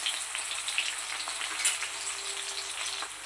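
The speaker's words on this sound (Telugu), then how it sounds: "ఇది బ్రౌన్ కలర్ వచ్చేదాకా వేయాలన్నమాట ఆనియన్." Onions fry in a pan toward browning, a continuous soft crackling sizzle heard close up without speech.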